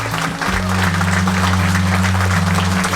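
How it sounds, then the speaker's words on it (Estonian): At a customer-service award ceremony, dense steady applause fills the hall, loud and continuous over a droning hum of background music. "See väärib ekstra ka aplausi loomulikult."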